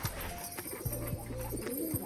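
A pigeon in a village setting gives low, soft cooing notes in a short rhythmic series, faint against a steady background.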